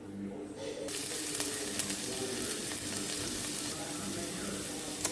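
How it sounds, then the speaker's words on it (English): Ginger, green chili and garlic drop into hot oil with a sudden loud sizzle and keep frying in a steady, crackling hiss. A few louder pops and faint stirring rise above it, and there is no talk. "Once it's hot, I'm going to add the ginger, green chili and garlic into it"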